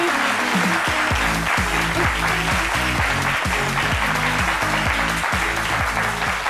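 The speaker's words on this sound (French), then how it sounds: "Et les applaudissements." Studio audience on a live Abidjan midday TV show applauds a rapper's arrival, loud even clapping held throughout over a rhythmic music bed.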